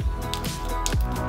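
Slime gets pressed down onto a plastic tennis racket and lifted, giving close, wet squishing and sticky popping sounds in a short burst with a brief squelchy slide near the end.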